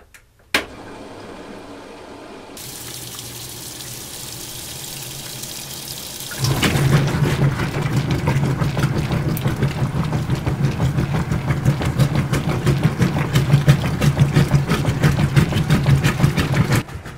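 A washing machine starting a short wash cycle to felt knitted pieces, first a low hum, then a steady loud churning rush of water and drum motion that builds and holds without any voices.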